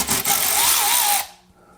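A power driver backs a screw out of a recessed light can, a loud, close whirring burst lasting just over a second before cutting off to quiet.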